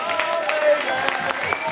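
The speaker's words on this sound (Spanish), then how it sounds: "este último aplauso es para todos vosotros" Brief applause and clapping from an outdoor concert crowd at a local pre-festival celebration in Mutilva, heard fairly faint under a speaking voice.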